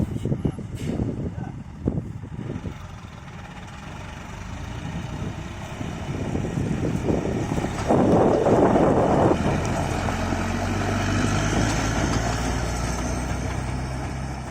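Strong gusting wind buffets the microphone outdoors beside six-wheel dump trucks with trailers unloading crushed aggregate, a steady low roar that swells after the midpoint with engine rumble underneath and occasional voices.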